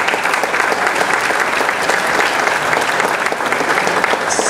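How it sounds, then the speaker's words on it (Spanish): Audience applause at a cultural event honoring a secretary of culture, a dense steady clapping that fills the room throughout, loud and even with no voices over it. "Un nuevo aplauso corto para el secretario de Cultura y para todos."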